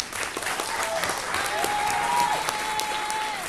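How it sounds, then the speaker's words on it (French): A stage show audience breaks into strong, steady applause, with a few whoops and voices rising over the clapping. "On applaudit un plus fort que ça"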